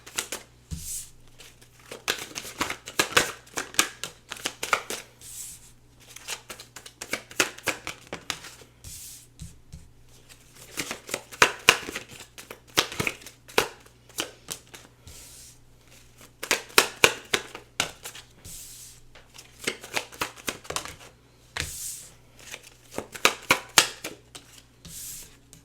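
Tarot cards are shuffled and pulled by hand, a long run of crisp papery riffles, flicks and slaps coming in irregular bursts with short pauses, close and fairly quiet, with no talking.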